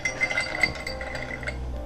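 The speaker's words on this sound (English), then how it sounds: "Let's open up the fridgey first." Glass clinking as a fridge is opened in the Seven Days Bloody Painter dating sim, a few light, bright chinks and rattles of bottles close by over a low hum, with no voices.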